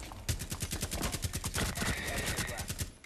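Rapid, evenly spaced gunshots from Frost's slow-firing weapon in the video game Rainbow Six, one dense, continuous close burst with sharp repeated reports.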